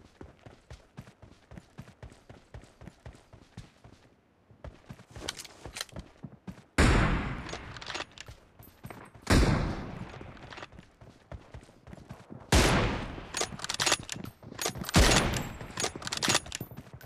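Rapid gunfire from the video game PUBG Mobile: dense automatic bursts and heavy volleys crack loudly and close, with brief lulls between the longer strings of shots and no voices.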